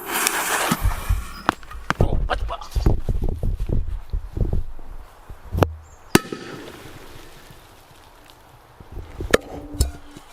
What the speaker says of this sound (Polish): nasza petardka.